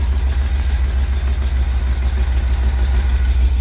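An old beater car's engine idling steadily after a choke reset, with a slight exhaust leak on one side, giving a loud, close, rhythmic low chug that holds even throughout with no talking.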